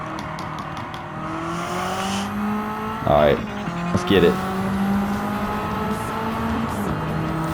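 A 500hp 2015 Mitsubishi Evo races in Gran Turismo 7, its engine droning steadily with rising and falling tones and brief tire squeals, while someone talks over it.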